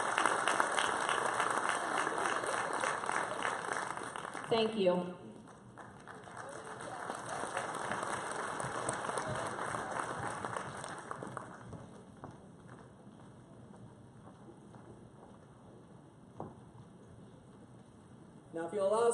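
Applause from the crowd at a high school varsity athletic ceremony, a sustained wash of clapping that dips midway then carries on more softly, with a brief spoken thanks.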